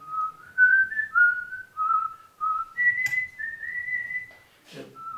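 A man whistles a bawdy song, a clear solo melody of sustained and gliding notes with short breaks, close and loud with no other sound.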